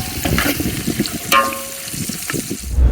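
Onions and deseeded chillies frying in a pan at an outdoor village cookout, a loud steady sizzle with stirring scrapes and a brief bright clink partway through.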